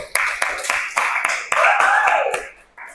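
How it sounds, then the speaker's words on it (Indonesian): A short burst of classroom applause breaks out for a student, with sharp hand claps rising and falling quickly, mixed with voices and cheering from the class. "Beri aplaus dulu Sartinayu"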